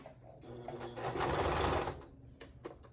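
A sewing machine runs a straight stitch steadily, its rapid mechanical whir swelling louder in the middle before easing off, with faint clicks at the end.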